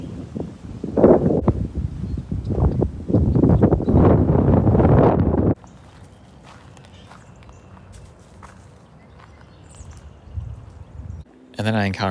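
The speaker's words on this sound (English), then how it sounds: "The next day, it was extremely windy." Strong wind buffets the microphone in a park, a loud broadband roar in heavy gusts for the first five seconds, then dropping to a low rumble with faint rustling before another brief gust at the end.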